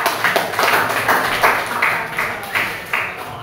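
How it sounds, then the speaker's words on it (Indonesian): A small group claps in a brief, loose burst, individual hand claps audible in an uneven rhythm, fairly close and moderately loud. "Tepuk tangan untuk yang 3 juga"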